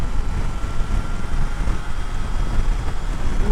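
Steady broadband wind rush buffets the microphone while riding a Triumph Tiger Sport 660 motorcycle on a highway, a continuous low roar with no breaks and no voice over it.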